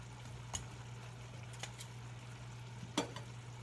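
Chicken thighs and sweet potatoes sizzle quietly in a pan with a soft, continuous fry, steady low hum and a few sharp pops and clinks, no talking.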